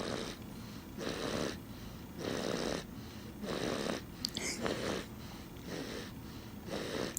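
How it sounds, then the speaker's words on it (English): Loud snoring repeats in a steady rhythm, about six long rasping breaths in seven seconds, close by in a quiet room with no talking. "Somebody snoring?"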